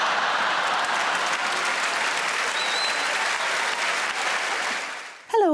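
Dense, sustained applause from a large theatre audience at a comedy show, loud and continuous for several seconds before fading out abruptly at the end.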